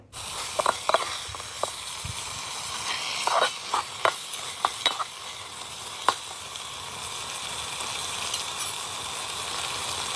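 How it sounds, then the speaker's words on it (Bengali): Spiced curry with napi paste bubbles and sizzles in a pan while a spoon stirs and scrapes through it, with scattered sharp clinks over a steady frying hiss. "ভালো করে মশলাগুলোর সাথে একটু মিক্স করে নিচ্ছি"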